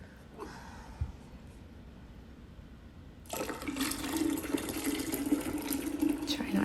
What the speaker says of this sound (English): now I'm going to go ahead and add in my 4 cups of cool water